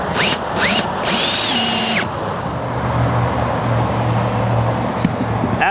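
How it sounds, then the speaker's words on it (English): Power drill driving a 1.5-inch Phillips head screw through a bracket into an RV roof while fitting a Fiamma F65s awning, a close, loud whirring burst lasting about two seconds, followed by a lower steady hum. "After you add your sealant, you can go ahead and set your screw."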